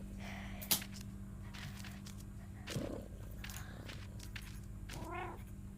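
A cat meows from a television in a quiet room, coming through as faint, soft vocal calls that are spaced apart over a low steady hum, with a sharp click early on.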